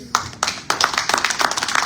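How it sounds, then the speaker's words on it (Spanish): A church congregation claps together during a sermon, a few scattered claps at first that quickly swell into steady, lively applause from many hands in a reverberant hall. "¿Le doy un aplauso al Señor?"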